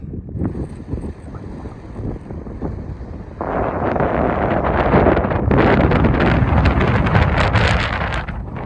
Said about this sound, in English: It's going to be really windy, so you're not going to hear any of this.